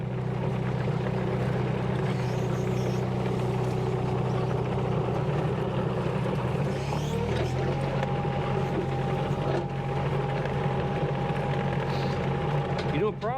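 A SANY SY26U mini excavator drives along toward a fence row, its diesel engine giving a steady, continuous drone with a low rumble that shifts pitch midway, loud and close throughout.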